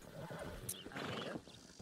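A white Arabian horse in a video game whinnies with a bright, rising neigh, with soft hoof clops and background noise around it.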